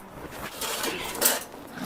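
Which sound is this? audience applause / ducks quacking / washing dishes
washing dishes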